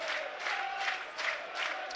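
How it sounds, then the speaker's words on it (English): Crowd noise rises and falls at a Premier League football match between Burnley and Southampton, a loud stadium roar surging in several rhythmic waves, like chanting or clapping. "Crowd providing plenty of noise."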